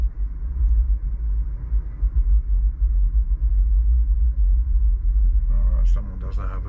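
Heavy bass from a nearby car's sound system throbs as a continuous low rumble, heard from inside another car on the road, with a voice briefly speaking near the end.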